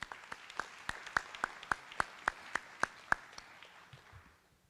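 Sparse, distinct claps ring out in a quiet hall for presenters and scholarship contributors at a scholarship night, about a dozen evenly spaced hand claps that fade out with no voices.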